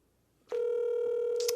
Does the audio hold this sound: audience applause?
no